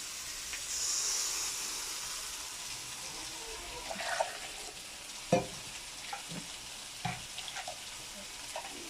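Steady sizzling and hiss of a ground paste for white kurma frying in a pan, with occasional stirring clinks and scrapes, close and moderately loud, no talking.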